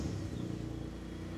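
A Mitsubishi 3000GT engine runs with a steady, low, rumbling idle close by, holding an even throb for the whole moment without any talking.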